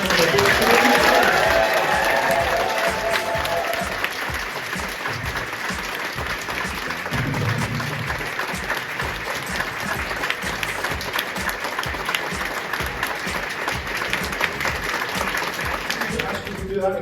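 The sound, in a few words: audience applause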